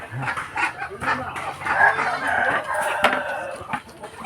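Hungry breeder hens and roosters in a backyard farm flock make a busy, noisy chorus of clucking and squawking with crowing mixed in, close by and continuous.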